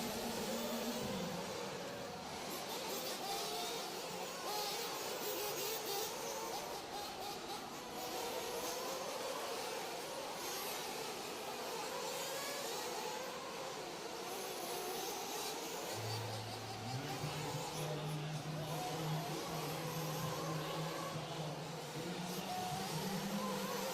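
Nitro RC buggies race around a track in a championship qualifier, their small high-revving engines droning in a continuous, shifting whine with pitch rising and falling as the cars pass, steady and fairly loud throughout with no talk.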